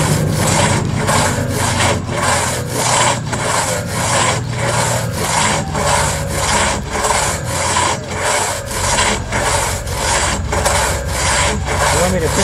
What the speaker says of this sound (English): This is called single bucking on with a crosscut saw here.